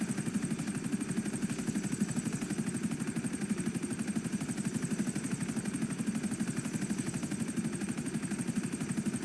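Helicopter rotor in GTA V during The Bank Contract auto shop mission, a steady, fairly faint chopping thrum with a rapid regular beat that holds evenly throughout, with no voices.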